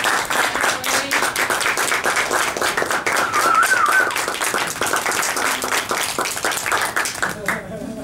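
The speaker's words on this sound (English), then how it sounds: "big round of applause" Steady, dense round of audience applause at a conference talk, many hands clapping at an even level for several seconds before tapering off near the end.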